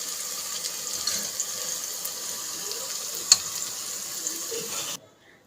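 Sliced onions frying in a pan hiss and sizzle steadily as they brown, a soft continuous crackle with an occasional spoon tap against the pan, cutting off abruptly at the end.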